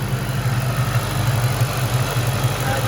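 A 2004 Ford Mustang SVT Cobra idles steadily, a close, even low rumble with a regular pulsing throb and no voices.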